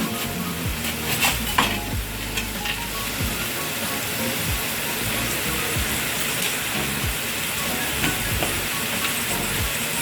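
Masala spices sauté in a pan for chana masala, giving a steady, loud sizzle and fry with occasional stirring scrapes throughout, close and continuous, with no voices.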